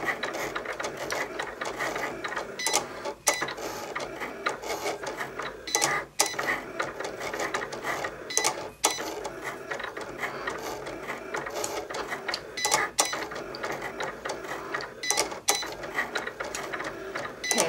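A Cricut Explore cutting machine cuts lettering for a box, giving a continuous mechanical whir of its moving carriage and gears broken by frequent ratcheting clicks and brief pauses, close and steady with no voices.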